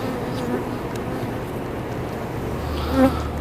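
Honey bees swarm over the frames of an open beehive in late season, a dense, continuous buzzing hum filling the air up close, steady throughout with one brief louder swell near the end.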